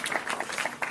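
Brief scattered clapping from a lecture audience, a short burst of applause that stays fairly faint and distant.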